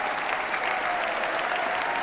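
Steady crowd applause at a US presidential inauguration ceremony, a continuous wash of many hands clapping at an even, fairly loud level.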